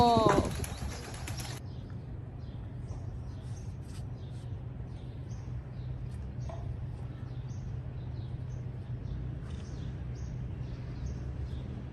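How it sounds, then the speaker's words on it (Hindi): Soft pigeon cooing and faint rustling over a steady low hum, with a brief burst of chirping at the start and quiet talk in the background. "ये कबूतर है"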